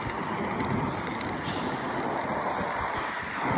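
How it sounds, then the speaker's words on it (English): Strong wind buffeting the microphone outdoors on the way to a tram station, a steady roaring gust with low rumbling throughout, no voices. "It's very windy"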